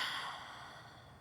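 A full, slow breath exhaled during a Pilates oblique exercise, a soft, airy sigh that fades gradually, close and quiet with no talking.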